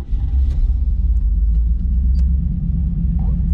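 A 1987 Chevrolet Camaro IROC Z28 engine runs with a deep, steady low rumble close by, holding a constant idle with no revving and no talk.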